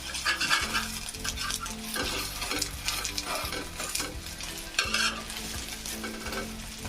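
An egg fries firmly in a pan, giving a loud continuous sizzle with rhythmic scraping and clinking of a spatula as it is turned and stirred.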